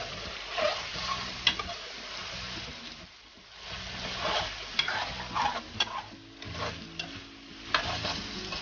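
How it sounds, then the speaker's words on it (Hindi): Chicken karahi with a teaspoon of black pepper being stir-fried in a karahi, a steady sizzle broken by scraping and clinking stirs that come in bursts through the whole stretch, with no talking. "1 टीस्पून हमने ब्लैक पेपर लिया और मज़ीद 2 या 3 मिनट तक भूनेंगे"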